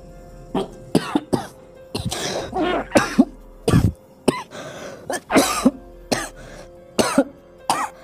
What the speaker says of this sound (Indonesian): Saya itu akhir-akhir ini batuk-batukan terus mbak.